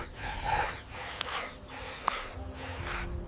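A kangaroo pants heavily from exhaustion under the midday sun, with close, rhythmic rasping breaths arriving roughly once per second, each one a strong breathy burst, with no voices.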